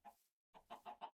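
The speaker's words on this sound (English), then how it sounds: "Oh, chickens." Chickens cluck in Minecraft, a short quiet cluck followed after a pause by a quick run of three or four close, rhythmic clucks.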